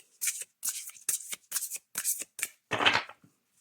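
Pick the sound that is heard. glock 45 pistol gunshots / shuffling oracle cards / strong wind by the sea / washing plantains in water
shuffling oracle cards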